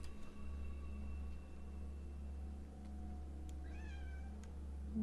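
A cat gives a loud meow near the end, a short rising call over a steady low electrical hum and faint background noise at a StarCraft 2 tournament broadcast.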